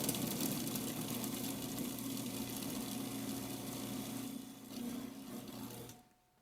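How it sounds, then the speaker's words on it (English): A Robot-Coupe food processor grinding a Caribbean crab burger mixture, a steady humming motor whine that runs for several seconds, dips briefly, then cuts off near the end, with no speech. "Okay, and we're just going to grind this."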